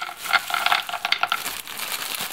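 Crackling, spitting sizzle of pelmeni dumplings frying in hot oil in a pan, with a few light scrapes and clinks.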